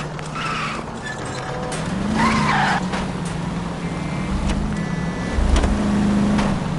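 Car tires skidding and squealing during reckless driving in L.A. Noire, a sustained engine drone with several sharp screeches rising over it, fairly loud and close, with no talking.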